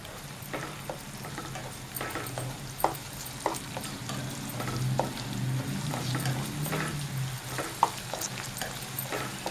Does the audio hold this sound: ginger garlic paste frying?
yes